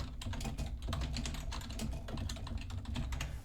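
Rapid, steady computer keyboard typing fills the clip from start to end, a dense run of close, crisp key clicks alone with no talk, over a low background hum.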